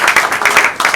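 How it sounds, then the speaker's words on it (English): Applause from an audience at a formal evening event, a brief burst of many hands clapping in quick steady rhythm. "you all deserve a big round of applause"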